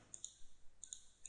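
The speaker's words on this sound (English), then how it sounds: "Click stop and click" Quiet, sharp computer mouse clicks come in two small clusters, a pair near the start and another pair about half a second later, with nothing else around them.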